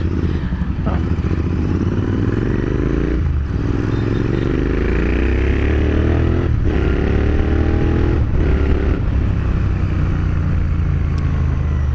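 A motorcycle with an aftermarket AEW 102 exhaust roars loudly and close, rising and falling through several gear changes with a throaty, raspy exhaust note.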